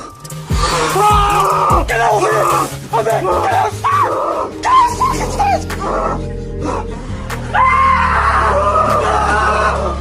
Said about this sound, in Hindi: इस वीडियो में एक बात बिल्कुल असली है और वो है हमारे इन भाइयों की चीखें, जो बिल्कुल असली हैं